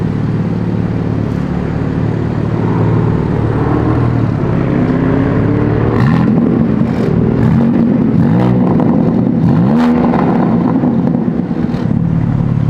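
A car's exhaust with the valves opened in M mode, droning steadily and loud, with a few revs rising and falling near the middle, heard from inside the car with no talking.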